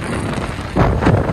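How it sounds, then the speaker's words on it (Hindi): Strong storm wind gusts roar into the microphone outdoors, a broad rushing buffet that swells louder partway through. "बहुत हवा चल रहा है यहाँ, बहुत तेज,"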